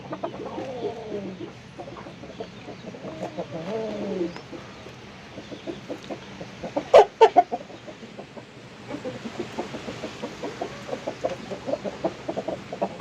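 Roosters kept individually in cages on a racked farm setup cluck and murmur steadily, with a sharp, loud burst of flapping or squawking midway and soft coo-like calls throughout.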